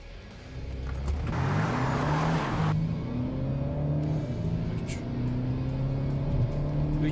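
A car producing 500 Nm of torque accelerates hard at full throttle on a closed course, its engine note climbing steadily in pitch under a continuous loud drone of road and wind noise, with no talking.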